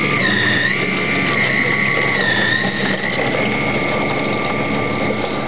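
A 104-inch Extra 300 model aircraft's engine runs steadily while the plane taxis out on a calm day, a loud, close, continuous buzzing whine with slight pitch wavers and no speech.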